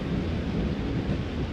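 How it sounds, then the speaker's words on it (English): Steady rain with a low rumble of thunder in a fantasy story segment during an Identity V championship broadcast, a continuous dense wash of sound without speech. "Soon, rain indeed fell."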